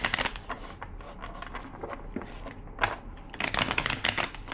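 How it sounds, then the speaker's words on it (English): A deck of tarot cards being shuffled up close, with quiet riffling and crisp flicking bursts that grow busier near the end, and no talking. "2 more shuffles"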